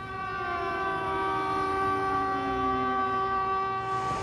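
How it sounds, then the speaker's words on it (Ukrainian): A steady, droning air raid siren in Ukraine wails continuously in sustained harmonic tones, loud and unbroken from start to finish. "Але ось почалась повітряна тривога"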